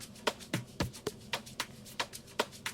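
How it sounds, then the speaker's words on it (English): Percussion hits in an amapiano remix, layered over shakers, sound as sharp, evenly spaced clicks and taps roughly every quarter second. They are quiet and dry, with no voice over them. "On top of that, I added some percussion"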